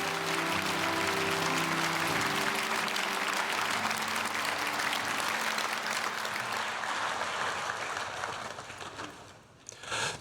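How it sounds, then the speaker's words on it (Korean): A church congregation at a Sunday worship service applauds after a testimony, dense sustained clapping filling the hall, with some musical tones beneath early on before the clapping thins and fades near the end. "하나님께 영광의 박수 올리시기 바랍니다."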